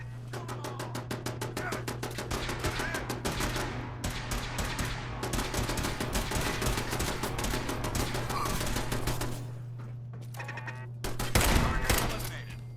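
Sustained rapid automatic turret gunfire in the Fallout 4 video game, loud and continuous bursts of fire with a low steady hum beneath, easing briefly before a heavy thumping burst near the end.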